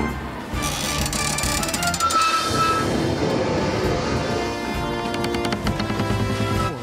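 A cartoon train rumbles loudly along the rails, a steady heavy roar with clattering wheels and occasional metallic squeals, close and continuous throughout.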